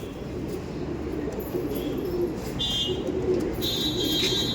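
Pigeons cooing inside a loft of aggressive breeding birds, a low steady murmur of coos throughout with a few faint higher chirps near the end.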